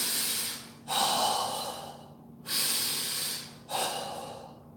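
Three strong breaths during kung fu punching practice, each a sharp forceful exhale that trails off, evenly spaced and close up with no talking.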